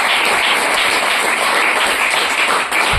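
A church audience at a Christian sermon applauds loudly: dense, steady clapping fills the whole stretch without a break, close and bright, with no voice over it.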